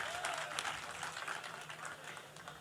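Faint, steady applause from a crowd at a poetry gathering in India, heard at a distance and continuing evenly throughout.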